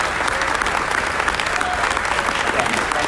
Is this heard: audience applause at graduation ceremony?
yes